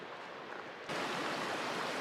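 A mountain creek on the Continental Divide Trail rushes steadily as a broad, loud hiss of flowing water, starting quieter and jumping abruptly to full volume partway through.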